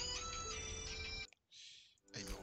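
A phone ringtone plays a steady tonal melody for over a second, then cuts off, followed by brief tonal bursts and a voice.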